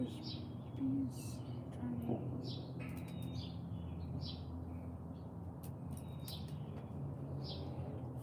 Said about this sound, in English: We got birds up in the feeder.